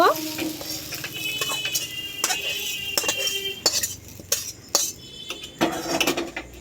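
Chowmein Maggi noodles with nuts frying and being stirred in a pan, with a soft sizzle under repeated sharp scrapes and clinks of a spatula against metal, irregular and close.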